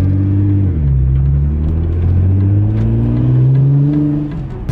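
A Nissan R35 GT-R running a stage one tune accelerates hard, its engine note climbing in a smooth rising drone through the gears, with one quick dip at a shift. It sounds loud and close, heard from inside the car with no talk.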